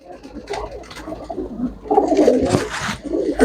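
Pigeons coo close by in throaty, rolling bursts that swell louder toward the end, with a few soft sounds of handling and room noise around them.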